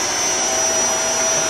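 A vacuum cleaner runs loud and close, a steady whooshing roar with a constant high whine that stays level from start to finish, no voices over it.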